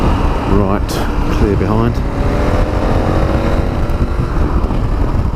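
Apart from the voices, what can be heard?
KTM 1290 Super Adventure S motorcycle accelerating onto dual carriageway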